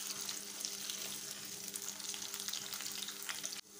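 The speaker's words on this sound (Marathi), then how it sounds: "आता तो पण आपण तेलात परतून घ्यायचा आहे" Boiled potato pieces frying in oil give a dense, even sizzle that holds steady nearby, then drops off sharply at the very end.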